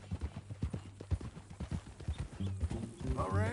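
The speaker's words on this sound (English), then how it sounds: "That a new horse?" Horse hooves clip-clop at a steady trot in the video game Red Dead Redemption 2, close and rhythmic, with a person talking over them near the end.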